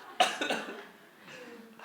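A preacher at a Sunday church service gives a few quick, muffled coughs close to the microphone, followed by a quieter stretch.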